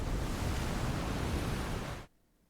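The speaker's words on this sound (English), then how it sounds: "it sounds like the waves are waving" Ocean waves give a dense, steady wash of surf, loud and even for about two seconds before cutting off abruptly.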